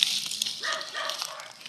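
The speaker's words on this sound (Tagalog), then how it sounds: "Grabe naman mga aso na yan." Brief dog barks heard at some distance, a couple of yips blending with background noise.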